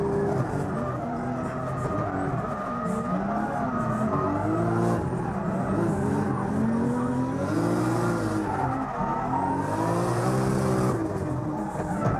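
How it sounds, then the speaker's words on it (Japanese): Onboard a race car during a race: the engine revs and accelerates hard while the tires skid and squeal through the corners, loud and close the whole time with no talk. "この時の走りをノーカットで野村の車載カメラで見てみよう"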